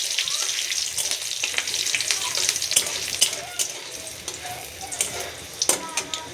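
Chopped garlic hitting hot ghee in a kadai for egg tadka, a bright hissing sizzle with scattered stirring taps and scrapes, close and steady.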